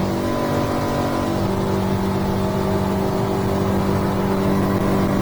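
A single outboard motor on a 2023 North River 3100SXL Seahawk OS boat runs at high RPM, a steady, close, loud drone with rushing water and wind noise throughout.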